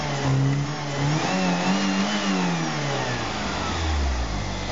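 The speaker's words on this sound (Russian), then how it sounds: "Вот у нас машинка работает. Немножко так, гул небольшой от генератора." Lada Niva with a 16-valve engine idling steadily up close, a low generator hum running beneath the smooth, even engine tone with no voices.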